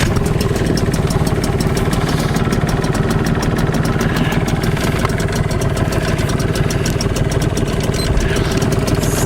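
Tohatsu 5 hp outboard boat motor running steadily, a dense, even buzzing drone with a fast regular pulse, close and loud throughout with no voices.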